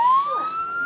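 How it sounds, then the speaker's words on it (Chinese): A fire engine siren from a Disney Mickey video game wails in a single rising electronic sweep, loud and close, with no voices over it. "真的没错，米奇消防队出任务喽。"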